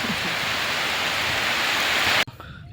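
Heavy rain falls steadily during a fishing trip, a loud dense hiss of drops on surfaces that cuts off abruptly near the end, leaving quiet background.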